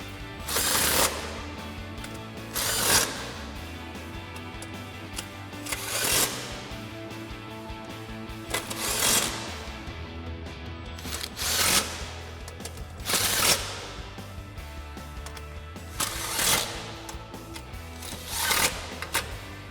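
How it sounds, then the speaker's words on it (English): An impact wrench with a 13mm socket tightens the bolts of side step bars on a 2024 Toyota Tacoma, firing in about seven short, loud bursts spaced a few seconds apart over a low steady hum. "we'll go ahead and grab our 13mm socket on our impact and tighten all of these down"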